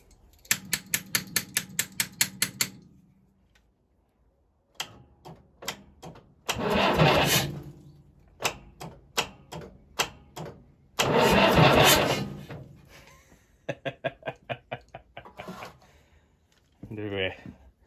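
A Fordson Major diesel tractor is cranked by its struggling starter motor in several separate bursts of rapid, rhythmic chugging, close and fairly loud, with pauses and a voice talking between attempts.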